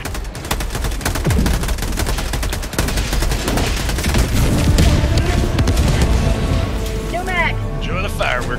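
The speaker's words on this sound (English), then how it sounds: "Orbital strike incoming." In the video game Helldivers 2, an orbital strike pounds the ground with a dense, continuous barrage of booming explosions and crackling blasts, loud and sustained, with faint voices and gunfire mixed underneath.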